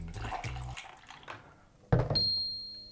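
Water is poured into a small reservoir at home, with a few splashy trickles and knocks followed by a brief sharp pour and a thin ringing tone as the liquid settles.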